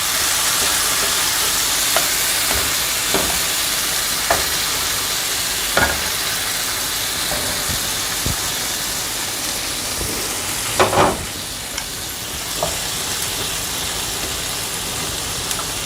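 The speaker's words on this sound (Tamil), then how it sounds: "அடுத்தது ஊற வச்சுருக்கக்கூடிய இந்த பன்னீர் க்யூப்ஸ் இருக்குல்ல, அதை நம்ம ஃப்ரை பண்ண போகிறோம்" Marinated paneer cubes fry in oil on a tava with a steady, loud sizzle, broken by occasional clicks and scrapes as the pieces are turned.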